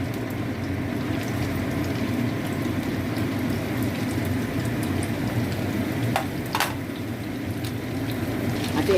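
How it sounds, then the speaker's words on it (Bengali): Chicken cheese kebabs frying in hot oil give a steady, dense sizzle with a low bubbling crackle throughout, with a couple of brief sharper spatters near the end and no voices. "তেলটা আমার গরম হয়ে গেছে, এবার এগুলো এক এক করে আমি ভেজে নেবো।"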